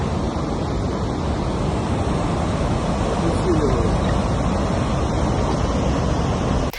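Floodwater pouring through after a dam breach, a steady broadband roar of rushing water with a wind-like hiss, loud and continuous throughout.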